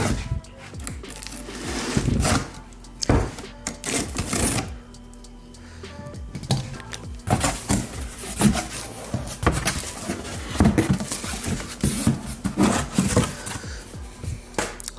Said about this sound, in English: So we're going to go ahead and open this box up,